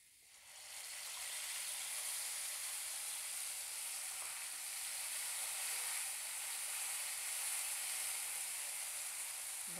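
Masala paste hits hot oil with frying potatoes in a vegetarian Bengali curry, setting off a loud, continuous sizzle that swells after a brief quiet start and holds steady throughout, with no voices.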